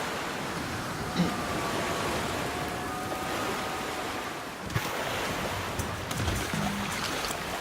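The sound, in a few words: boat on water being rowed in The Flame in the Flood video game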